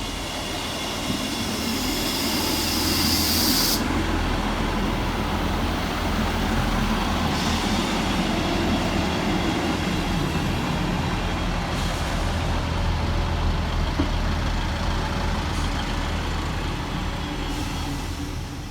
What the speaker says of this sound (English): Next arriving into the station will be 158-741 and 158-708, working 1715 Scotrail service from Edinburgh Waverley through to Glenrothes with Thornton.